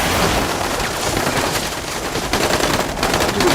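Dense, continuous gunfire with bursts of automatic fire and shots crackling through a battle scene in an action movie, loud and sustained, with no clear pauses.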